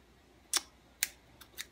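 Scissors snip through craft material for a Dollar Tree Christmas decoration, four sharp quiet clicks spaced about half a second apart, alone and close.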